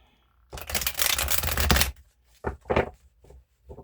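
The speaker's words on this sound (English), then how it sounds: "Alright, that's enough shuffle." A burst of rapid papery riffling as a tarot deck is shuffled, lasting about a second and a half, followed by a few soft taps and handling sounds.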